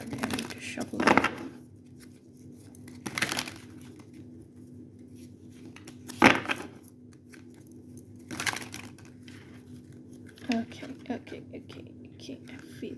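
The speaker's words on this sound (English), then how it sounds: "So probably I need to shuffle them." A fairy oracle card deck is shuffled by hand in soft, papery bursts that come roughly every two seconds, close and quiet, with a low voice murmuring between them.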